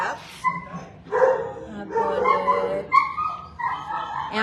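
Dogs in animal shelter kennels barking and yipping in short bursts, a few whimpers between, echoing in a hard-walled room.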